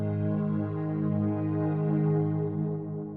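A sustained synthesizer chord drones steadily, rich in harmonics and slowly swelling, with no other sounds.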